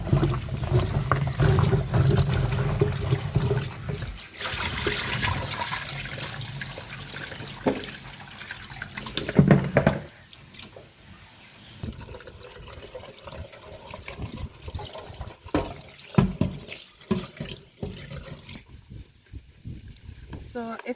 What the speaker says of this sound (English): pour out the water, wash it back in there.